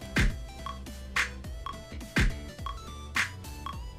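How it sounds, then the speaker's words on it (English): Programmed drum beat of only kicks and claps with no hi-hats, punchy booming kicks and sharp claps in a sparse repeating pattern, loud and close. "So now, when I take off the hi-hats, and I have just the claps and the kicks, it sounds like this."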